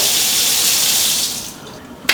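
Water runs steadily from a kitchen faucet into a sink, then shuts off, followed by a single sharp click.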